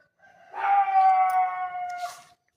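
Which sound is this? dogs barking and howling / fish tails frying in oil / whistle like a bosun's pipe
dogs barking and howling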